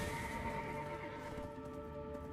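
A horse in the Black Desert Online video game gives a quiet, drawn-out neigh that wavers in pitch, with no talking over it.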